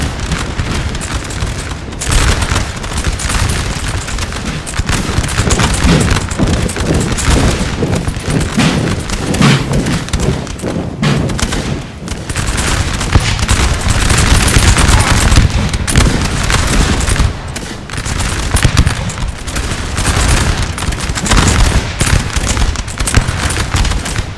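Artillery shelling and musket volleys in a Napoleon: Total War multiplayer battle: dense, continuous booms and crackling fusillades rolling without pause, loud and close, with no speech.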